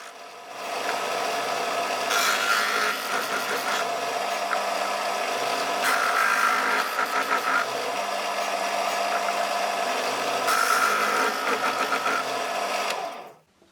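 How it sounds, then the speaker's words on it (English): A drill press bores into the faces of a small wooden cube, giving a steady motor whine with louder bursts as the bit cuts the wood, close and continuous for several seconds before stopping. "And then I drill the other 4 faces of the cube."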